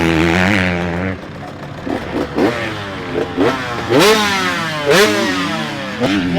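Dirt bike engine revving after a carburetor jet change and air screw and idle adjustments, a loud close blip-and-drop pattern of repeated rising revs with sharp throttle bursts, and no talking.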